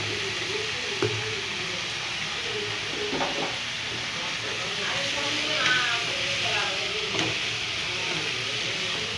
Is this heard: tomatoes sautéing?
yes